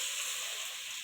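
Grated garlic hits hot white cooking oil for chicken soup, giving a steady, bright sizzle that hisses evenly throughout at close range with no talking.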